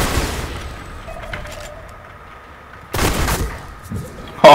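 A grenade blows up in a multiplayer shooter game: a sharp, loud blast bursts out after a quiet stretch, then a shorter, punchy burst follows near the end.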